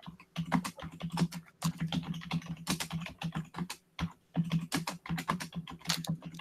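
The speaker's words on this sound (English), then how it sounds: "Oh, some furious typing." Rapid, clattering keystrokes on a computer keyboard, bursts of fast typing with a couple of short pauses, close and distinct.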